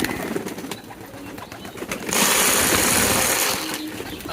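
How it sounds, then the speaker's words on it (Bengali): Pigeons call noisily while being fed from a bowl, a busy layer of cooing and fluttering that swells into a loud rushing burst midway before easing back. "এখানে পাখিগুলো চিল্লাচিল্লি করতেছে পাখিগুলো"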